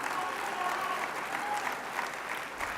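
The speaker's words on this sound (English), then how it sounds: "please, let's give him another round of applause" Audience at a large world convention general session applauds a speaker, a continuous wash of clapping from many hands, moderately loud and steady through the short stretch.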